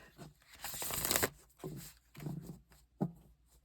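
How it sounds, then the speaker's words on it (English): Tarot cards are shuffled close by in quick riffling bursts. A long, loud riffle comes first, followed by shorter softer passes and a final sharp snap, with no talking. "Some people don't like the shuffling."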